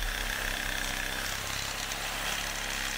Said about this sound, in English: I've got a metal blade in my reciprocating saw, obviously because the bushing's metal.